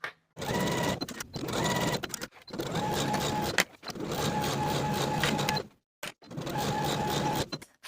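A sewing machine runs in several steady bursts while stitching the side and shoulder seams of a sleeveless high-low hem dress, each run a dense whirring hum that stops cleanly with short quiet gaps between.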